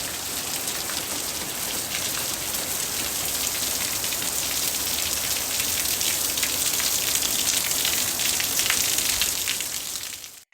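Steady rain falling outdoors, a dense continuous hiss of drops spattering on surfaces, fairly loud and even throughout before cutting off at the very end.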